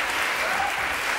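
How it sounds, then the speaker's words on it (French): Studio audience applauding a magician's guest, Bernard Bélis, on a French TV variety show: a short, dense burst of steady, continuous clapping filling the whole moment, with no voices standing out. "Applaudissements, Bernard Bélis"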